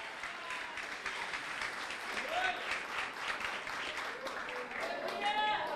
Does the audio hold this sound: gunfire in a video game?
no